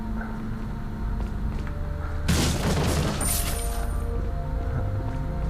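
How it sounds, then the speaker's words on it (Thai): An explosion in the video game Resident Evil 4 bursts out as a single loud boom with a crackling, debris-like tail, rising over a steady game soundtrack and ambient hum. "อะไรเนี่ยระเบิด"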